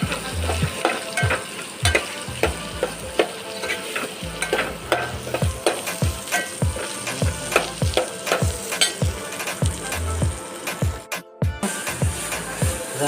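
Spiny gourd (kankoda) frying in oil, a continuous hiss under rhythmic, repeated scrapes and knocks of a spoon stirring the vegetables in the pan.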